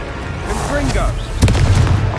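Booming fire-spell blast cast in a Hogwarts wizarding video game, a thick explosive burst near the end after a shouted voice and game chatter, loud and close.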